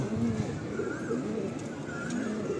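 A home-loft Fulsira pigeon coos close by in several low, rolling calls that repeat steadily over faint ambient noise.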